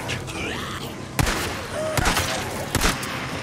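Gunfire in Days Gone comes as several loud, sharp shots spaced about a second apart, each a broadband crack over a noisy game backdrop.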